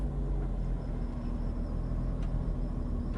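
Car engine idling in the video game Mafia III, a steady low rumble holding evenly throughout with a faint background hum and no talk.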